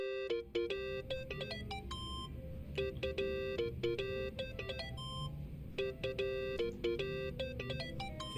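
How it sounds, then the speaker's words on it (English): A cell phone ringtone in the video game Yakuza: Like a Dragon, a repeating pattern of bright electronic beeps and chirps in quick bursts over a low background hum. "think that's your phone, man."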